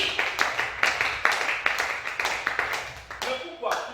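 A church congregation claps in a rhythmic beat, with loud, evenly spaced claps that continue while a voice speaks over them and slow toward the end.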